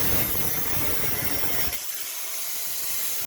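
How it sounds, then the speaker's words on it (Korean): An angle grinder cuts through a water supply line where water has pooled, giving a loud, rough, grinding whir that drops to a thinner, higher hiss partway through before stopping abruptly. "현장에서 내려오는 수도 라인을 그라인더로 잘라야 하는데 중간에 물이 고여 있어 박스를 대고 잘라주었습니다"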